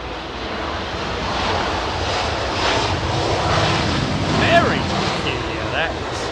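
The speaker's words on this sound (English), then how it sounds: "Aircraft making their way up this end of the runway." Jet aircraft engines roar steadily on the runway at London Heathrow on a windy day, a continuous loud rumble with wind noise throughout.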